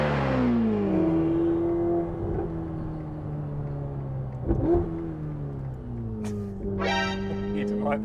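A Ferrari F8 Tributo fitted with a Novitec exhaust accelerates hard, its engine note climbing through gear changes with sharp pops and crackles between them, loud and close from inside the cabin while someone talks over it.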